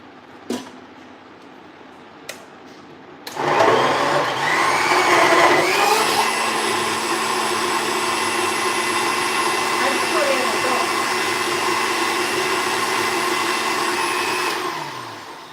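A blender starts with a sudden roar after a couple of faint knocks and whirs loudly and evenly for about ten seconds while mixing a homemade cocktail, then winds down.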